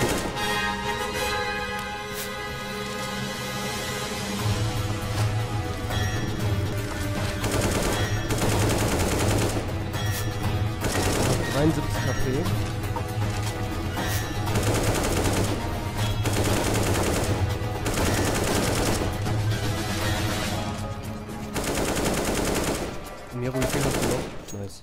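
Sustained bursts of rapid automatic gunfire, including an AK, with booming low impacts over a driving game soundtrack during a CS:GO co-op boss fight, nearly continuous, with brief pauses between volleys.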